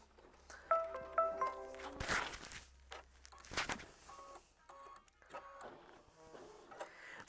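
An embroidery machine stitches down a quilt block with a quiet, rapid mechanical whirr. Intermittent tonal beeps and soft clicks come through, fairly faint, with no talking.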